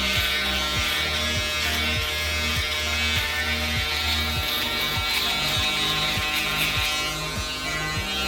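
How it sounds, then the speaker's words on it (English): Electric shaver buzzing steadily and close while cutting one's own hair, its tone dipping briefly as the blades pass through hair, no talking. "we're gonna try to keep the shaver parallel and flick out"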